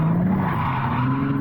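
A drifting car slides through a turn on a track, with tires skidding and squealing loudly and continuously while the engine note shifts as the throttle goes on and off.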